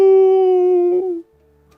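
A fox in a children's fable cries out "Au!" once as a single loud, sustained howl-like wail lasting about a second, fading into near silence.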